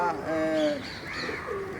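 Soft coos from racing pigeons in a loft nearby, a few low warbling calls with faint chirps in a quiet room.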